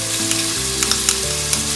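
Chicken paella with saffron and turmeric sautés in a pan, a continuous close sizzle broken by a few sharp scraping stirs, with a faint steady hum underneath and no voices.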